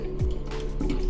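Cold water pours into a PET demijohn of fruit wine in a fermenter, a short close gurgling fill with a rising bubbly tone.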